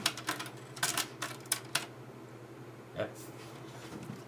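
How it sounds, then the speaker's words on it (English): A cassette tape is loaded into a Sony TC-WR535 tape deck under repair with new belts, giving a string of sharp plastic clicks and clacks, then a soft mechanical clunk, close and fairly quiet. "But let's put the tape in."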